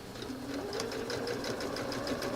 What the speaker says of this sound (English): I put the needle down right where I was already stitching